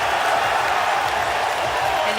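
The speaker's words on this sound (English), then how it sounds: "That roar from the crowd is these fans knowing that Danny Wolf has waited hours tonight to hear his name called" Arena crowd roaring steadily after the 27th pick of the 2025 NBA Draft is announced, a dense, sustained wash of many voices with no single sound standing out.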